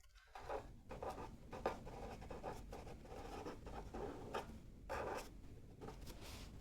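Marker or chalk writing on a board during a maths lecture, a steady scratchy stroking with short pauses between strokes, close and moderately loud, with no talking.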